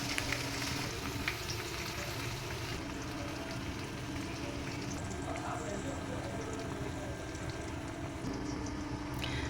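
Boiled arbi (taro root) pieces frying in oil in a pan, a continuous soft sizzle and crackle heard up close, with a few faint clatters.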